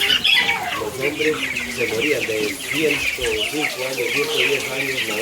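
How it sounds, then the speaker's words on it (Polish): Chickens on a farm in Costa Rica cluck and chatter steadily at close range, several birds overlapping loudly, with a voice speaking over them. "Doszliśmy do kurczaków."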